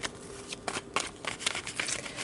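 Tarot cards are shuffled by hand up close, a quick run of soft, papery riffling and flicking bursts with no voice over them.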